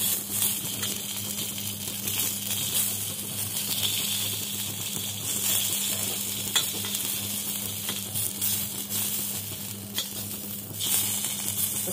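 Tomatoes and chillies frying and roasting in a pan, a steady close sizzle with faint stirring scrapes throughout, no talking.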